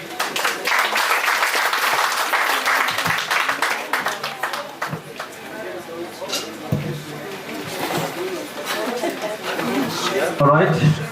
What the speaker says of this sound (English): let us clap hands once again for Mrs. Vanessa Kazanga